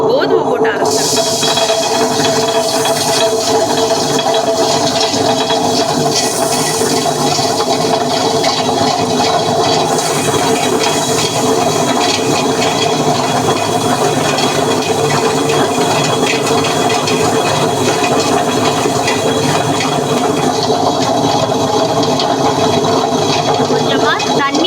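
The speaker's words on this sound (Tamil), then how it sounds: "நம்ம கோதுமை போட்டு அரைச்சிடலாம்." A newly unboxed electric grinder grinds wheat grains, giving off a continuous loud whirring and churning hum that stays steady and unbroken from start to finish.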